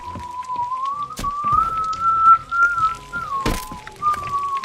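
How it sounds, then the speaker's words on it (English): A character whistles a wavering, sustained tune in the pirate game Sea of Thieves, clear and close, interrupted by a few sharp thumps and clicks. "I just heard her whistling"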